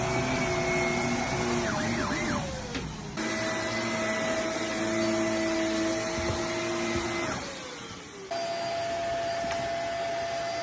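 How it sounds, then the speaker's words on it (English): A vacuum cleaner drones steadily with a tonal whine that shifts in pitch partway through, loud and close, with a pig nearby reacting to the noise and no talk. "I found a pig that really hates vacuum noise."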